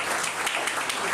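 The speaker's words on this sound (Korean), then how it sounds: "많은 축하의 박수 부탁드리고요" Congratulatory applause from the audience at a 2013 Gyeongbuk disabled sports policy workshop: a dense, even patter of many hands clapping at once, soft and somewhat distant.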